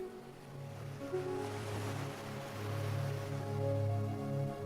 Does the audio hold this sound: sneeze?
no